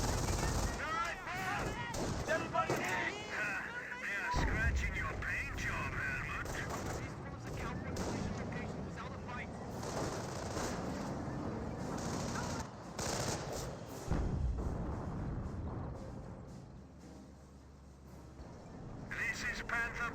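Company of Heroes 1 battle gunfire: continuous machine gun bursts and rifle shots crackle alongside explosions and rumbling, with voices speaking over the fight.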